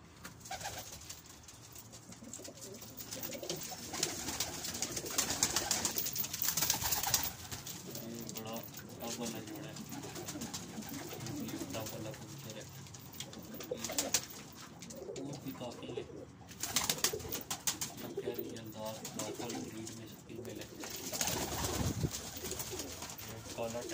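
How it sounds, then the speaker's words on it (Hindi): Several dewlapped pigeons raising young coo steadily in an enclosed loft while someone talks over them, with occasional rustling and wing movement. "ये भी डब वाला कबूतर है, इनके भी माशाल्लाह बच्चे भी पाल रहे हैं।"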